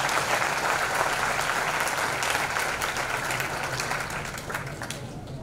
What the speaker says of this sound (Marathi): प्लीज त्यांच्यासाठी गरज टाळ्या वाजवा.